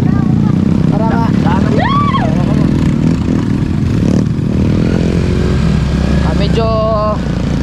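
A motorcycle engine labours along a rough, rocky road, loud and close, with people talking over it throughout.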